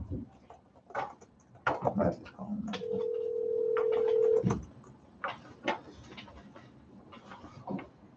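A steady telephone dial tone runs for about a second and a half mid-clip during a regular council meeting phone call, amid scattered clicks, handling noise and background voices.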